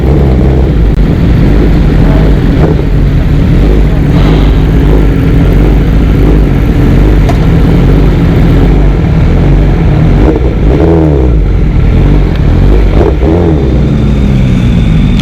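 A tuned Suzuki GSX-R1000 with a full exhaust revs loud and close, its deep engine roar rising and falling continuously throughout the ride.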